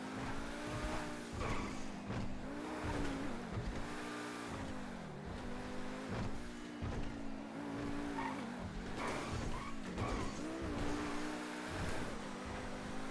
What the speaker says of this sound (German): Ich bin einmal um den Block gefahren.